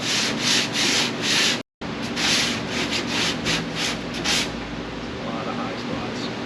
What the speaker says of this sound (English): that's all we're going to hit with the sanding block